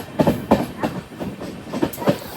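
An Amrit Bharat Express sleeper train rolls into Chengannur, its wheels beating out a steady clickety-clack of regular rail-joint knocks at close range, with no voices.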